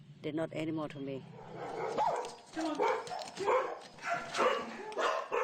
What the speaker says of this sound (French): Depuis 2011, Lek accueille aussi plus de 400 chiens des rues